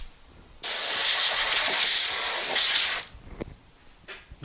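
Contact cement sprays from a can onto a seat pan being recovered for a 1970 Kawasaki F5 Bighorn, a steady loud hiss lasting over two seconds before a few small clicks and handling noises.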